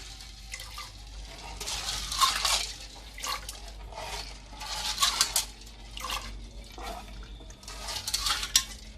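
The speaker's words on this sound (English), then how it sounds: "I'm putting in the peas into the water" Peas rattle and splash into a pot of water in irregular bursts, with clinks of metal against the pot.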